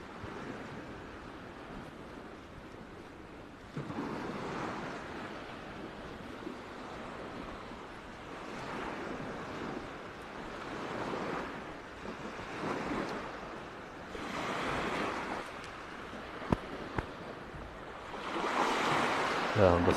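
Calm sea waves wash gently ashore at Evrenseki near Side, Turkey, at sunset in late February, a soft steady surf with slight swells and some wind rumble, moderately distant and unhurried, with no one speaking.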